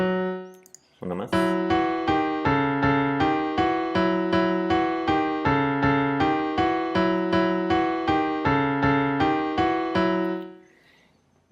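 A mathematical frieze symmetry pattern is rendered as music: a bright synthesized tone repeats a short note pattern in a steady, even pulse for about ten seconds, then fades out.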